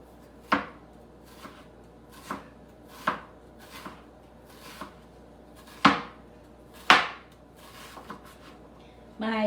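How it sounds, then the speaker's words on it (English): Knife slicing an onion very thin on a cutting board, a steady series of crisp chops spaced about a second apart, close and clear, with a few louder strokes near the end. "Now we're going to slice an onion really, really, really thin"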